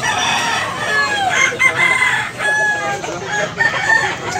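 A black Hennie rooster crows loudly and close by at a market in Tabunok, Cebu, one drawn-out call filling the moment, with faint background murmur around it.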